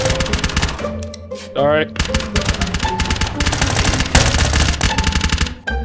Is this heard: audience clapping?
no